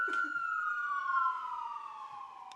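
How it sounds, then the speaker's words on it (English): A city emergency vehicle's siren wails loud and steady in one long tone that slowly falls in pitch as it passes, with no voices over it. "That's the police coming to arrest those who were faking. I don't know. That might be an ambulance, actually."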